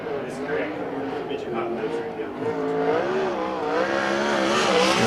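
A sprint car runs a qualifying lap at a USAC Western World Championship Sprints event, its engine note steady and wavering in pitch throughout, with a race commentator talking over it.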